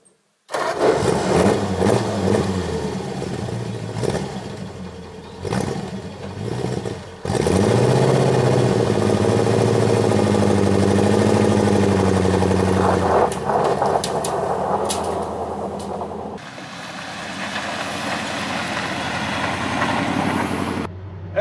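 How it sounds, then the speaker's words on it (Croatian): A 1952 Ford F1 pickup's flathead engine runs loud and close, starting with uneven revs and then settling into a steady, throbbing idle with occasional throttle blips throughout. "Čujete ovaj krasni flathead kako radi."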